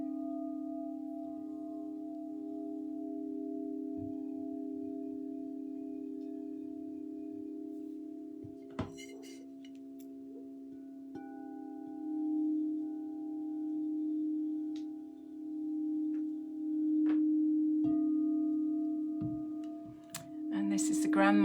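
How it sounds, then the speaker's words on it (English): Grandmother and grandfather alchemy singing bowls ring out in a steady, sustained hum with shimmering overtones. The bowls are fairly quiet, with slow swells in loudness, a few soft clicks and taps, and no talking. "This is the grandmother alchemy bowl and the grandfather alchemy bowl."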